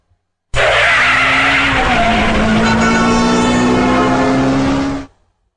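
Car skid sound effect standing in for a limo: a loud, sustained tire screech lasting about four and a half seconds with a rough engine rumble underneath, starting and cutting off abruptly.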